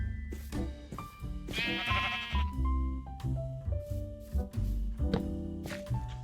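Sheep in Minecraft bleating several times in short calls over a steady backdrop of game tones.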